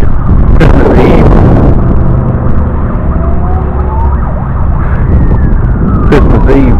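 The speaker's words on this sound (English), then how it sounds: "Ooh, lovely sirens, gotta love it." Emergency vehicle sirens wail through steady, loud traffic noise on Christmas Eve, with a rising and falling tone sweeping across the middle of the clip.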